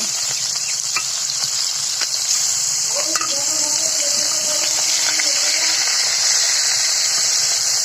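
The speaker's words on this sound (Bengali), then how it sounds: "এটা বড় হওয়াতে একটু ভেজে নিচ্ছি মাছটা" Khalse fish frying in oil in a pan, a steady bright sizzle running throughout at moderate level, with a few soft tonal clatters from utensils partway through and no speech.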